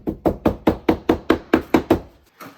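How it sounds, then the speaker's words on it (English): Rubber mallet tapping around a wet concrete countertop form, ten evenly spaced dull knocks at a steady rhythm, close and fairly loud, then a short pause and one softer final tap. "I've got a rubber mallet. I'm just going to go around and literally tap the form a bunch of times all the way around"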